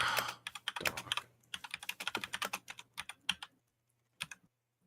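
Rapid, uneven clatter of keys on a computer keyboard, loud and close, in quick bursts with brief pauses and a low steady hum beneath.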